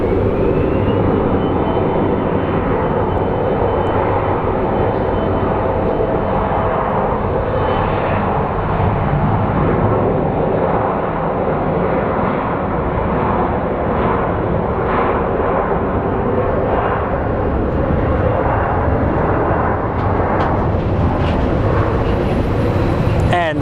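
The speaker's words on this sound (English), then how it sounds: "they're about to take off with this Embraer off to Monterey" Embraer regional jet readying for takeoff at Phoenix Sky Harbor, a loud steady engine roar and rumble filling the whole stretch, with a voice talking over it now and then.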